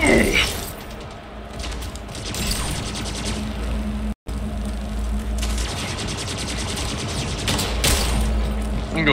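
Sniper rifle fire in the shooter game Splitgate, sharp loud shots cutting through dense continuous game noise with mechanical clicks and rattles, a brief dropout midway.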